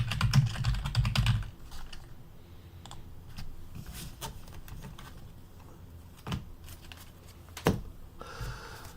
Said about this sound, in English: I'm just going to type some cards in silence